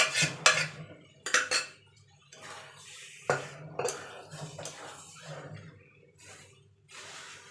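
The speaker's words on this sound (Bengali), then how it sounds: "এবার আমি ঘুগনিটা যে সিদ্ধ করে রেখেছিলাম সেটা দিয়ে দেবো।" Boiled ghugni peas tipped into cooked-down spiced masala in a pan on a home stove, with sharp metal clanks of a ladle against the pan and soft wet scraping and stirring between them, close and fairly loud.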